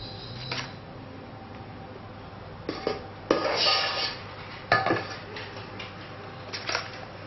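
Cupcake batter scooped into paper cupcake liners in a home kitchen: a few soft scraping and plopping handling sounds spaced a second or two apart, close and quiet, over faint background hum.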